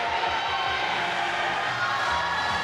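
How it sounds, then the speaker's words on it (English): Roller derby crowd at a regional finals cheering and applauding in a dense, steady roar, shouts and whoops mixed into the wash of noise. "huge round of applause for the showing there of Burning Rubber here"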